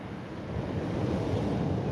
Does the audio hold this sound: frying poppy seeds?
no